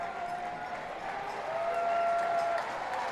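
A baseball crowd at a North Division Championship game between the Blue Crabs and Barnstormers cheers from a distance, a steady moderate murmur that swells slightly midway.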